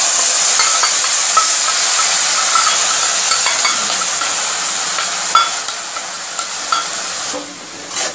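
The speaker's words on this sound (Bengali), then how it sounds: "এবারে দইটাকে ঢেলে দিচ্ছি" Whisked yogurt hits hot spiced oil in a pan, setting off a loud, bright sizzle and hiss that stays strong, then gradually eases with a few small crackles and clinks near the end.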